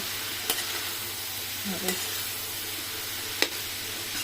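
Papaya being stirred and fried with garlic and onion in a pan, a steady low sizzle running throughout with a few sharp scrapes of the spoon.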